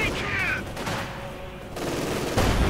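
Machine gun fire rattles in a Company of Heroes 2 battle, a loud, continuous stream of gunfire bursts and explosions at mid distance, with a brief screech near the start.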